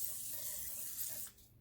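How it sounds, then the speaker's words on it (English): PB Blaster penetrating oil sprayed from an aerosol can onto a cylinder head surface, a faint, steady close hiss lasting over a second before it stops. "We're going to use some PB Blaster, and we're going to douse the head surface here"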